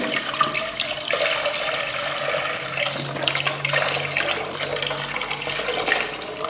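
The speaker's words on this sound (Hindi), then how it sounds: "तो हम दूध डालेंगे, तो हम 1 किलो दूध डालेंगे।" Milk poured into a cooking pot for rice kheer gives a steady liquid splash and gurgle that runs nearly unbroken throughout, close and moderately loud, with no talking.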